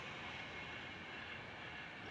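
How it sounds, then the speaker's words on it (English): A train passes by a fishery, a continuous even rumble of wheels on track, distant and steady throughout without voices. "the train goes by"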